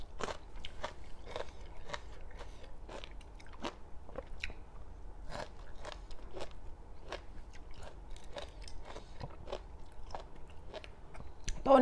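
Crunchy blanched kale stems in a spicy Thai seafood salad with shrimp, squid and crab being bitten and chewed, with sharp, regular crunches repeating close up, alone without talk.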